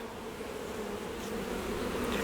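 Honey bees buzz around backyard hives, a dense continuous drone of many insects close by, steady throughout.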